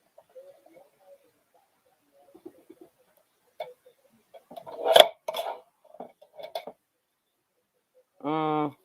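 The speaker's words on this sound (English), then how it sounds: "Sorry about all the loud chopping noise" Chopping while making Christmas cards: sparse knocks and taps build to one sharp, loud thump, followed by a few softer hits and a brief tonal hum at the end, in an otherwise quiet room.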